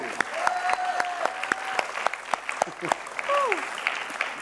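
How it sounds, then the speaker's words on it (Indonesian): A studio audience on the Family 100 game show claps for a contestant. Scattered sharp claps run under lively talk and a rising vocal sound, moderately loud and close. "tepuk tangan dulu untuk Jesse"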